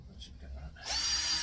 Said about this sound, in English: If you don't have the drill on hammer setting to start with, that does help.